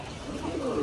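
Pigeons coo softly in a brief, low murmur at a pigeon-flying tournament, close and fairly quiet.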